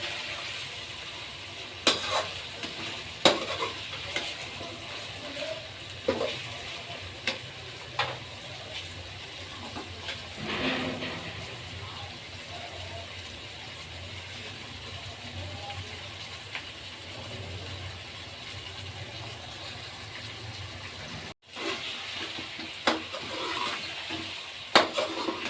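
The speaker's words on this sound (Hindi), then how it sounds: "चिकन हमारा अच्छी तरह फ्राई हो रहा है। अब हम इसको थोड़ा सा और फ्राई करेंगे।" Chicken frying in a pan for karela salan, a steady soft sizzle with intermittent scraping and clinks of a spoon stirring, close and continuous with no talking.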